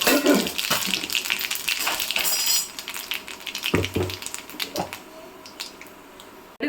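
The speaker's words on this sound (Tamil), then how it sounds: "கடுகு பொரிஞ்சிருச்சு." Mustard seeds and urad dal spatter and crackle in hot oil in a pan, a busy sizzling crackle with sharp pops, close and steady, thinning out toward the end.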